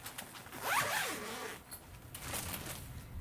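A zipper on a case for a Donner DJP-1000 ES-335-style guitar is pulled open in one long, quiet zip at close range, followed by soft handling and rustling.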